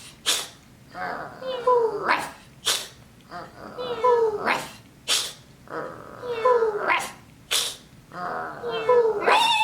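Human voices imitate a cat's meow and a dog's bark, taking turns in a steady back-and-forth, with each call separated by a sharp percussive burst.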